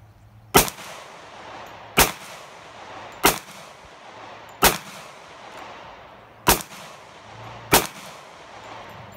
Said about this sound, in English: I'm gonna run a mag through and see what I think of it